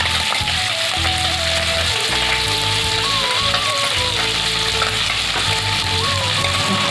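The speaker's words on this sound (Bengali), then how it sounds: "আমাদের মাছগুলো কড়া করে ভেজে নিতে হবে একটু" Small fish deep-frying until crisp for a bottle gourd dish, with a loud, dense, continuous crackling sizzle beneath a melodic background music track.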